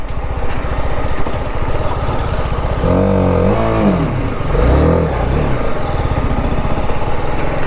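A BMW G310 RR motorcycle engine runs loudly up close on an off-road mountain trail, idling roughly and then revving up and down in a couple of rising and falling sweeps.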